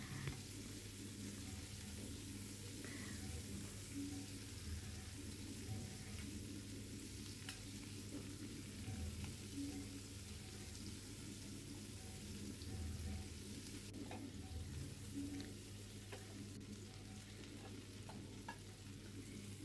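Tiger prawns fry in hot oil and get turned and stirred in a pan, a steady close sizzle with soft scraping and stirring throughout and no talk.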